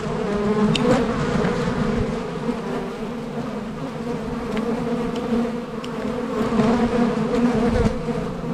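Honeybees buzzing around an open production beehive, a dense continuous drone of many bees close by, swelling and fading slightly, with faint handling noises.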